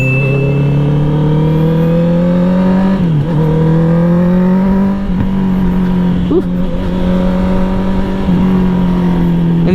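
2020 Honda CB650R inline-four motorcycle revving while ridden, a loud, close engine drone that climbs steadily in pitch, with brief dips at gear changes before rising again.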